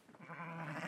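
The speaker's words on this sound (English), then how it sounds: "This is the pen for the goats and the ewes." A goat or ewe in a pen on a farm in Colombia's Tatacoa desert lets out a single short, wavering bleat, close and fairly faint.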